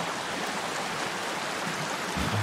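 A waterfall in the survival video game Sons of the Forest gives a steady, dense rushing roar at even loudness for the whole short stretch.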